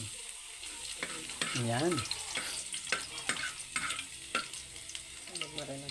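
Garlic frying in a pan with a utensil stirring and scraping, a steady sizzle broken by irregular clanks and scrapes, close by, with a brief spoken word.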